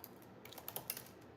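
Quiet keystrokes tap on a computer keyboard in a kitchen, a few soft clicks close together with no talking.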